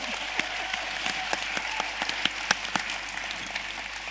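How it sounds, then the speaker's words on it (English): Steady audience applause at a panel conversation, with distinct sharp claps standing out over a continuous patter of clapping from a modest crowd, under a low hum. "Give them a big round of applause"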